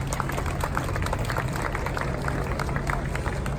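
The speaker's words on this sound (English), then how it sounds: "Yes, please applause for him." Audience applause greets a performer at a Gershwin concert before Rhapsody in Blue, a steady wash of clapping from a crowd filling the whole clip with no break.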